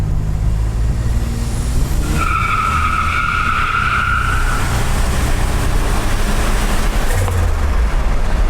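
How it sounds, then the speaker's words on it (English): A 1987 Buick Grand National turbo V6 makes a brake-boosted launch: loud engine roar with tires squealing and skidding, a sustained shrill squeal rising in the middle before the engine noise carries on. "Let's give it a little brake boost,"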